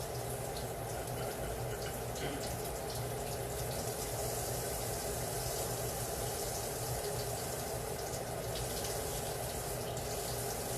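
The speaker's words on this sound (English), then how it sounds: "I'm just waiting for my water to get warm." Kitchen tap running steadily at full flow while the water warms, a continuous broadband rushing hiss throughout, close and fairly loud with no talk over it.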